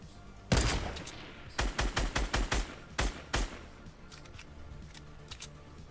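Sniper and other gunfire in a Fortnite match: one sharp, loud shot, then a rapid run of about eight cracks, a later pair of shots and fainter distant pops as the action fades.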